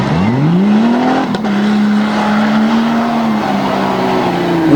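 A Jeep XJ race car sweeps through a chicane on a dirt course, its engine loud and close, climbing in pitch then holding a strained, steady howl, with faint tire scrub and no talk.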